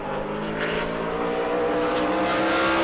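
Super late model race car at speed on the New Smyrna track during a qualifying lap, a loud steady engine drone with sustained harmonic whine throughout, close and unbroken, no voices.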